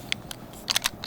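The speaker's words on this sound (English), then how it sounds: "Get your slide release lever in there. And it kind of snaps in." WE 1911 pistol slide release lever snapping into place, a few sharp metallic clicks close by with quiet gaps between, the loudest cluster near the end.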